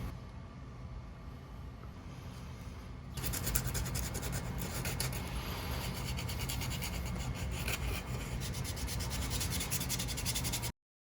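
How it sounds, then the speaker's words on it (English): Steady dry and wet sanding on a handmade sculpture, a continuous rubbing scrape that starts softer and grows louder and brighter after a few seconds, then runs evenly to an abrupt stop. "I will even everything out with dry and wet sanding"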